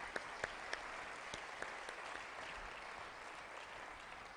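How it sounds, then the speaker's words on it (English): Faint, distant audience applause at a conference keynote, an even patter of many hands with a few sharper claps standing out early on. "A round of applause."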